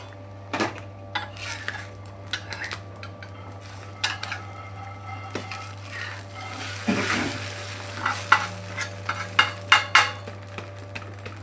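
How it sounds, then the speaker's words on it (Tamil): An omelette fries in a pan with a light sizzle, broken by repeated clinks and scrapes of a utensil against the pan. A steady low hum runs underneath throughout. "அஞ்சு ஆம்லேட் போட்டு எடுத்துக்கிறேன்"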